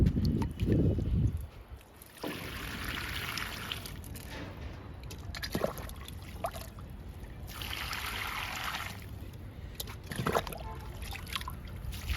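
Water trickles and splashes onto soil in tubs of tomato plants in a few separate pours, quiet and close, with brief handling noises in between.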